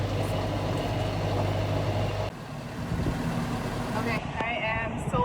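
A farm tractor engine runs loud and close in freezing weather of about minus 18 degrees, a constant rumbling drone that shifts in tone partway through, with no clear talk.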